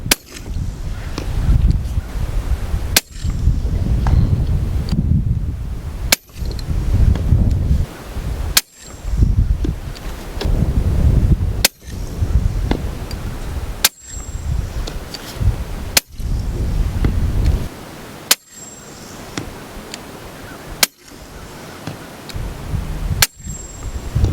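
Suppressed rifle shots fired through Simple Man and Enticer S suppressors: about ten sharp, dry cracks spaced a few seconds apart, each with a brief ringing tail over steady outdoor background noise.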